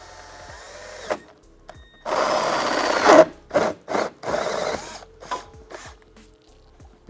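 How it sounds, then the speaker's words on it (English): A hole saw cuts through a Mustang GT body panel in several rasping bursts of varying length, the longest running about a second and a half, with short pauses between them and no talking. "We're going to use a hole saw to get the hose through the panel"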